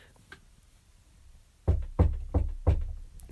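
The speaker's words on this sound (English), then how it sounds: "I think I just heard a knock." Four firm knocks land on a door in a quick, slightly uneven sequence after a quiet pause, close and distinct against a hushed room.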